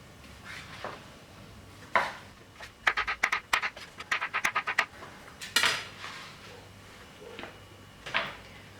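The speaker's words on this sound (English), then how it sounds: "So when I'm now cutting my baby marrow" A knife cuts baby marrow on a chopping board, giving a quick run of sharp, close taps in an irregular rhythm, with scattered single knocks before and after and no talk.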